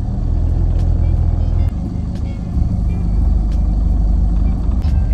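A car drives along with a loud, steady low engine and road rumble filling the cabin, and faint light clicks over it.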